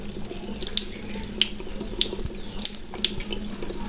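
Water from a tap splashes steadily onto a titanium derma roller, a continuous close running stream broken by light drips and clinks, no talking.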